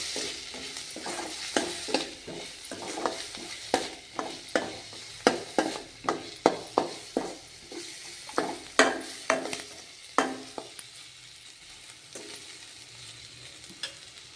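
A spice tempering fries in a pan with salt, chat masala and chilli powder while a spoon stirs it, giving a soft continuous sizzle broken by frequent sharp scraping and clinking strokes against the pan, close and steady; no speech.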